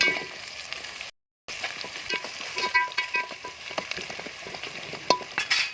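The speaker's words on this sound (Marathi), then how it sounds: "फोडणी परतून घेऊ" Spice tempering with onion, garlic and curry leaves fries in a pan over a wood-fired clay stove for a village-style chicken curry, giving a steady close sizzle broken by irregular scraping stir strokes, with no talk.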